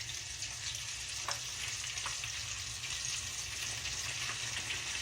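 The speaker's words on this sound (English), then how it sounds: "let's fry up those pieces" Catfish pieces fry in hot oil in a round-bottomed cauldron, giving a steady, close sizzle and crackle that runs unbroken throughout with a few sharper pops.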